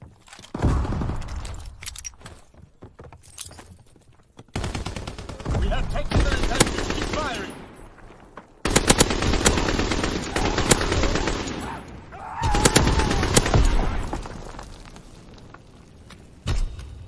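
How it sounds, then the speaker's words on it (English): Shotgun fire in a Call of Duty Kill Confirmed match: loud, broadband blasts and bursts of gunfire repeat across the clip amid busy in-game noise, with the sounds crowding closely together in places. "Shotguns tick me off so much."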